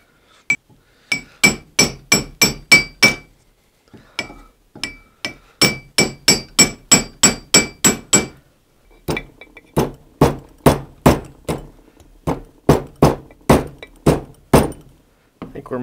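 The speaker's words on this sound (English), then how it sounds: "I'm just going to try and split it from the inside out here just by taking a cold chisel." A hammer strikes a cold chisel to split an old axe handle out of the head, sharp metallic clinks in quick runs of five to eight blows separated by short pauses.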